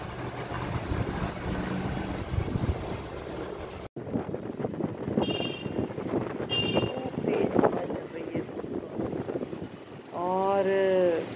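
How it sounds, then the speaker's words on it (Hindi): Strong outdoor wind gusts at dusk, buffeting the microphone in a low roar that drops out briefly, then returns with a few distant bird or vehicle tones near the end. "खूब हवा चल रही है तेज।"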